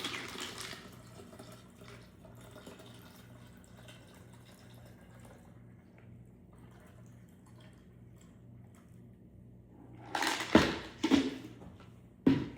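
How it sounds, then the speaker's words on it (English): A batch cocktail for Thanksgiving is strained through a fine mesh strainer: a faint, steady trickle of liquid over low background hum, then a few louder splashes and pours near the end. "I'm going to strain this out. Get a fine mesh strainer if you like."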